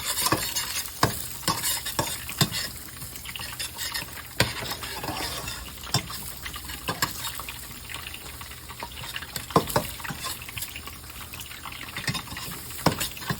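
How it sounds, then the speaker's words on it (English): Garlic toasting in a pan for a Korean-style fried chicken dinner gives a steady sizzle with repeated stirring scrapes and clicks. It sounds close and continuous, with no talking. "Toast the garlic."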